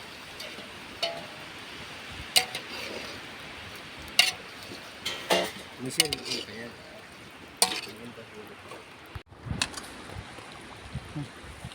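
Chicken with salt, turmeric and lemon fries in a pan for a chicken gravy, with a soft continuous sizzle under irregular scraping and tapping of a utensil as the pieces are stirred, sharp clacks scattered throughout.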